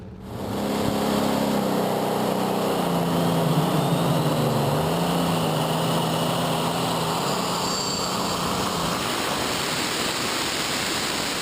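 A superstock pulling tractor during a pull at the 2012 Eurocup in Herning, Denmark, roars at full power for over ten seconds, a loud, steady broadband engine blast with a wavering drone beneath it and a thin high whine.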